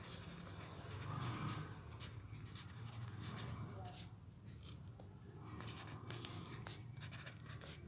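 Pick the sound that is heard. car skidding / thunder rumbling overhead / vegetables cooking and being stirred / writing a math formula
writing a math formula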